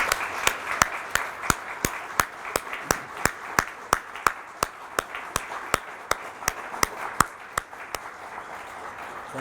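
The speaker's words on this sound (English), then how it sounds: "join with me in giving these folks our applause" At a Veterans Day ceremony at a community college, sharp, evenly spaced claps ring out at a steady measured beat, each crack distinct over a quiet room tone.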